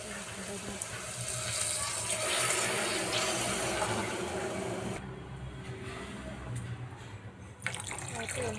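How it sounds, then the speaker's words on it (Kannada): Two cups of water are poured into basmati rice for egg biryani, a continuous splashing pour that fills for about five seconds, then quieter liquid sounds and a brief clink. "2 ಕಪ್ ನೀರು ಹಾಕ್ಕೊತಾ ಇದ್ದೀನಿ."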